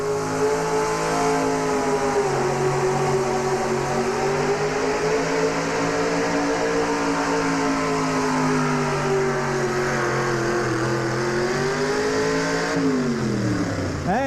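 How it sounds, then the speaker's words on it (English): Goodwrench Chevrolet pulling truck at a 1991 tractor pull at the National Farm Machinery Show roars loud and sustained, its engine harmonics swelling and sagging under load for the whole run before dropping off sharply near the end. "Here we come now with a Goodwrench Chevrolet."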